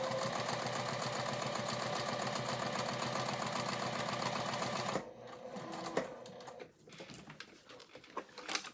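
A sewing machine runs continuously at a steady, even pace for about five seconds and then stops, leaving faint clicks and handling noises.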